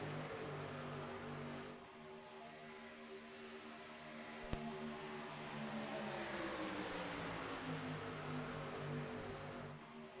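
Racing trucks roar in a Daytona superspeedway truck series racing game, a steady dense engine drone with layered harmonics that shift pitch as trucks pass side by side, one sharp click midway, no voices.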